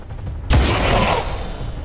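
A single sudden blast erupts and trails into a long rumbling, hissing decay, loud and close, like a gunshot in the video game XCOM 2.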